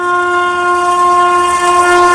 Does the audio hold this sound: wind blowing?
no